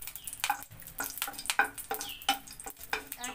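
A dried red chilli fries in hot mustard oil, giving a steady crackling sizzle broken by sharp pops and spatters, close and fairly quiet with no talk over it.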